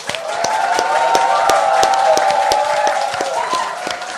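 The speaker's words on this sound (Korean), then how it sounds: "여러분의 힘찬 박수와 함께 시작하겠습니다" A studio audience claps to open a Korean talk show, a swelling wash of applause with sharp percussive knocks punctuating it at a steady pace.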